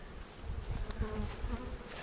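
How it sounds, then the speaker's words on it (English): Dense buzzing of many honey bees inside a laying worker hive during an inspection, a soft continuous hum heard close up with no talking. "There's a lot of bees in there."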